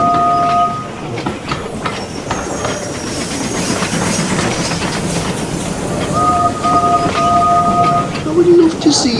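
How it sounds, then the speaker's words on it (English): A locomotive pulling a long freight train rumbles past, with continuous rolling rail noise and wagon clatter and short horn or whistle tones, under a narrating voice. "he spotted Neville roaring past again with another long freight train."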